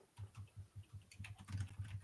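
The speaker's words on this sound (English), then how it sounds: "pounding on his keyboard" Quick, even keystrokes clatter on a computer keyboard during a post-game sports broadcast, a soft run of taps at a steady rhythm that grows a little busier toward the end.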